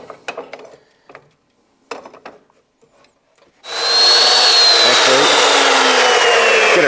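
An Evolution chop saw spins up loud and close after a few quiet handling knocks, its motor whining steadily as the blade shaves a thin sliver off a piece of wood.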